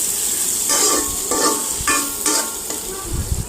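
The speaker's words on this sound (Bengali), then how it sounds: "পেঁয়াজ কুচি দিয়ে একটু নাড়াচাড়া করব।" Chopped onion frying with potatoes in a pan, stirred in several rhythmic scraping strokes over a constant loud sizzle, the spatula clearly audible close up.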